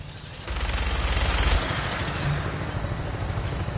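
Military aircraft on final approach to an airport in Fallout 4, its steady, loud rotor-like roar swelling and then holding as a continuous engine drone.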